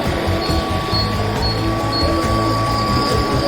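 A steady mechanical rumble and whir of two model trains running on track at a model train exhibition, with faint clicking and a thin high whine, continuous throughout.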